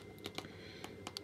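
Typing on the small built-in keyboard of a Pocket C.H.I.P handheld computer: sparse, crisp plastic key clicks, about six close-up taps at an uneven pace in a quiet room.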